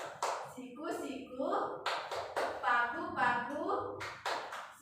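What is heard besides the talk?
Tepuk Malaysia hand-clapping game rhythm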